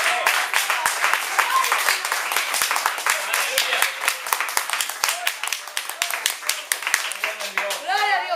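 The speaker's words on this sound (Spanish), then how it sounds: "¿Cuántos le dan un aplauso al Señor?" Congregation in an evangelical church applauding the Lord: dense, irregular clapping sustained throughout at close range, with voices and calls mixed into the noise.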